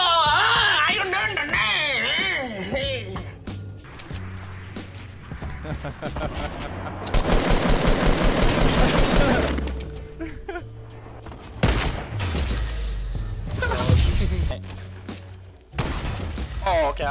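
Burst assault rifle gunfire in the Fortnite video game, with rapid clusters of sharp shots and impacts scattered through a busy mix of game effects and excited talking.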